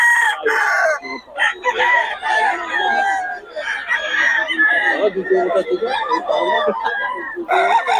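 A Sweater Gilmore gamecock rooster crows loudly and close at a busy gamefowl market, long repeated calls mixed with clucking and other birds, while people talk around it.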